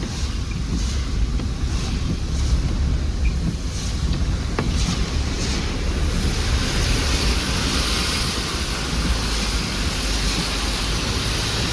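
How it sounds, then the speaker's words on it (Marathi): Loud, churning water roars continuously at Nilkanth Dham, mixed with heavy wind buffeting the microphone; a constant turbulent, high-pressure rush with no letup. "पाणी वगैरे किती तुफान पाणी आहे"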